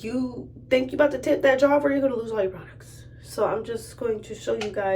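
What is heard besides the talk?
No everyday noise stands out behind the speech.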